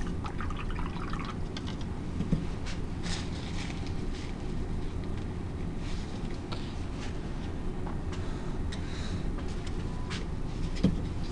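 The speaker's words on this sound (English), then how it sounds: "Wash my brush out." A paintbrush is rinsed in a water container between underglaze colors, giving continuous soft watery swishing and dripping close by, with no talking.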